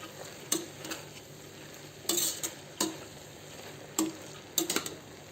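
Banana stem curry being stirred in a pan with chilli powder, coriander powder and chana dal, giving a steady low sizzle with several distinct scraping strokes of the spoon, close and moderately quiet with no talking.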